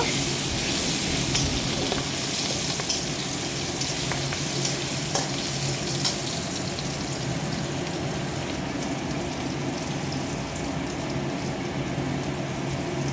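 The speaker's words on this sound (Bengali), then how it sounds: "হলুদ দিয়ে দিলাম এখন একটু নাড়াচাড়া করে নেব" Onions frying in a pan with turmeric for an egg curry send up a loud, unbroken sizzle while being stirred, close and constant across the whole stretch, with no speech.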